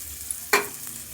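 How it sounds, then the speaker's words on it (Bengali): Chopped onions lightly frying in a pan: a soft, even sizzle with one sharp scrape or clatter of a spatula midway, then the hiss settling back. "পেঁয়াজগুলো হালকা ভাজা ভাজা করে নেব।"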